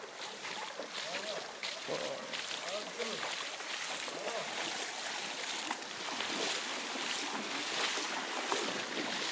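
Large volume of water gushing out of the ground at the Acheron river springs, a steady loud broadband rush that runs for the whole stretch, with people talking faintly beneath it.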